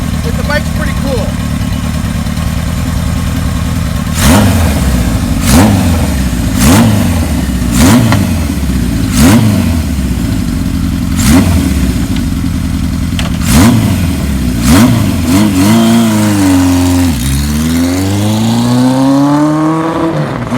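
A 1978 Kawasaki KZ1000 LTD motorcycle engine, freshly serviced with new oil and filter, revs repeatedly, rising and falling in pitch at a steady rhythm, with a few longer sweeping revs toward the end.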